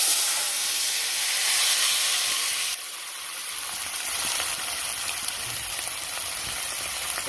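Vegetables go into a hot cooking pan and fry with a loud continuous sizzle and hiss that drops in level partway through, then keeps crackling steadily with no talking.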